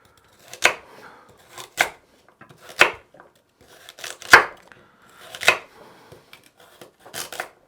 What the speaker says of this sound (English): These are touchon carrots, so I'm just going to cut them at funny angles